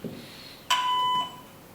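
A single steady electronic voicemail tone lasting about half a second, clean and mid-pitched with faint overtones, sounding alone over quiet room hiss with no voices.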